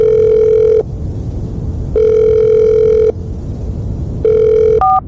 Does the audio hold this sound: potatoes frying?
no